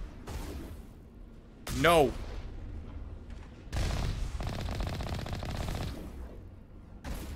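Rapid sniper gunfire in the sci-fi shooter game Mass Effect: dense, sustained volleys of shots crackling for a couple of seconds, broken by a sharp shouted exclamation and followed by a brief final burst.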